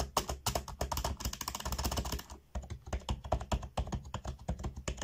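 Rapid typing on a computer keyboard, close and continuous, with dense clattering keystrokes and a brief pause midway before the tapping resumes.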